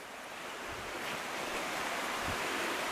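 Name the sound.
river water flowing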